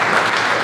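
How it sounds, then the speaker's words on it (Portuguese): Audience applause at a WordCamp Brasil 2025 talk on WooCommerce stores, a brief dense burst of clapping filling the room at steady loudness. "salva de palmas."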